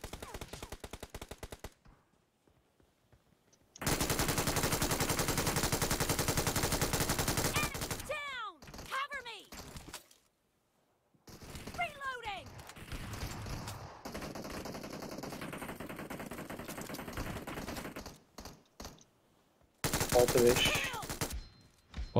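Gunfire in PUBG Mobile: a long loud stretch of continuous automatic shooting, then pauses broken by shorter bursts and mechanical clatter, ending with another loud volley.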